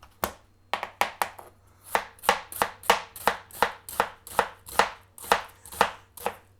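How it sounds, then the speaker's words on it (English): Knife thinly slicing half an onion on a cutting board, a quick even series of about fifteen crisp chops close up, with no talk. "Just slice it up as I've shown you in the past. You want this nice and thin actually"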